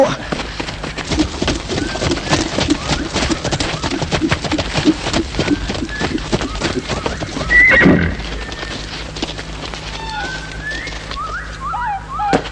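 Horses whinny loudly while hooves clip-clop steadily nearby, with a louder neigh burst partway through and birds chirping faintly in the background.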